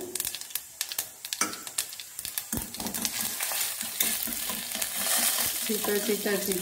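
Mustard seeds and cumin crackle and sizzle in hot oil, with sharp popping bursts over a steady frying hiss and occasional stirring clinks.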